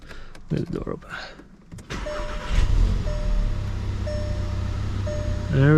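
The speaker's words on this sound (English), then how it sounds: "get the keys here, and we'll do the first startup" A VW MK7 GTI fitted with a new COBB SF intake cranks and starts for the first time, settling into a steady, throaty idle after a short whirr of power windows, with a person speaking briefly beforehand.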